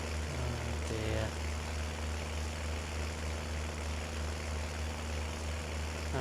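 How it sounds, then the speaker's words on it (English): A tractor labors under a heavy load in Farming Simulator 19, its engine holding a steady, deep, droning hum throughout, with a few faint tonal blips near the start. "this tractor is struggling pulling this."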